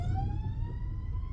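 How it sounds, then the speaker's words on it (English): Emergency vehicle sirens wail from a distance in a slowly rising tone over a low, rumbling street background, with no speech. "there's a lot of sirens I hear"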